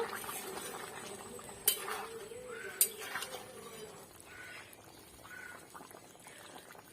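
A spoon stirs potatoes into a pot of chicken curry, with a couple of sharp metallic clinks and soft scraping over a quiet simmering background.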